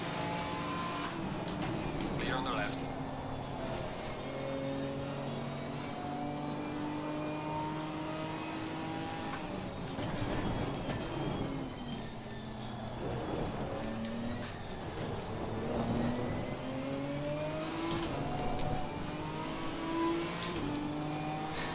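A Ginetta race car engine in a racing video game, droning steadily and swinging up and down in pitch through gear changes and revs, with no voices.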